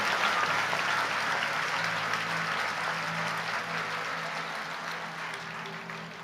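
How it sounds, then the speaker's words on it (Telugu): A church congregation claps loudly in thanksgiving, a dense, sustained burst of applause that fills the hall and fades slightly toward the end. "ఒకసారి గట్టిగా చప్పట్లు కొట్టి దేవునికి కృతజ్ఞతాస్తుతులు చెల్లిద్దాం."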